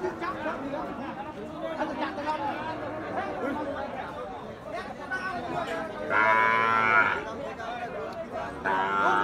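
Sahiwal, spotted Sahiwal and Gir bull calves at a busy village cattle market give out moos, rising clearly around the middle and near the end, over constant crowd chatter and bargaining voices.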